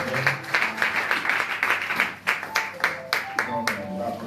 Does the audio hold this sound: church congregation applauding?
yes